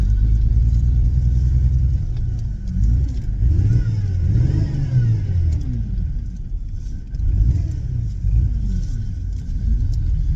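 An older car's engine idles unevenly and surges after the clutch is popped to restart it, a close, loud low rumble that rises and falls in rough, wavering revs for about ten seconds, with no talking.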